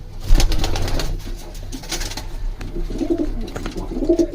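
Several breeder pigeons coo in low, throaty bursts close by, with soft rustling and faint background noise between calls.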